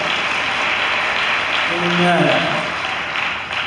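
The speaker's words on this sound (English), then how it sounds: "Give the Lord a cheer for him." Church congregation at a district overseer installation breaking into applause and cheering, a steady wash of clapping with a voice briefly calling out over it.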